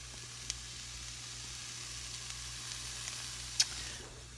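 Onion cooking in leftover beef grease in an unwashed skillet gives a soft, steady sizzle with faint crackles and one sharper pop, heard alone at low level.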